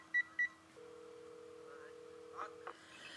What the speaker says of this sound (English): I call him, but the phone rings for a while before it connects.